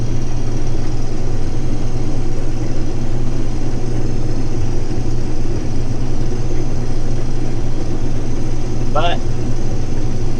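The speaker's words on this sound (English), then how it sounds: "Not very often do we get together and have this many combines in the same field." Combine harvesters work in a wheat field with a steady, droning engine hum close by, a brief higher whine near the end, and a single spoken word in the clip.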